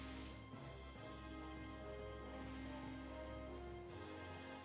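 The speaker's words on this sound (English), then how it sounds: "Oh, it's Rain Dance." Rain from the Pokémon move Rain Dance in a battle game is a steady patter of rain layered over droning game music, with no talking.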